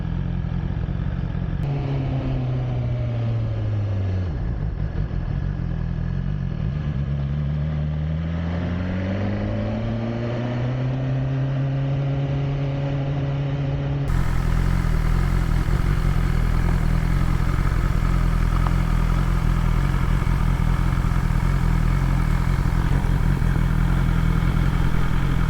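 A BMW S1000XR motorcycle engine runs steadily and loudly up close, its pitch sweeping down and back up as the revs change, then settling into a dense, even drone with no talking.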